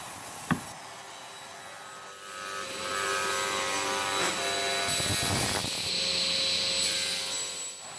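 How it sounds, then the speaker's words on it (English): A table saw rips thin eighth-inch strips of cedar and white oak, its motor whining steadily and the blade's tone rising into a louder cutting drone as the wood feeds through. "We embarked on this project by ripping strips of wood down to an eighth of an inch."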